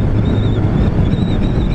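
Strong wind roars and buffets the microphone in a loud, steady rush, with a faint high whine running underneath.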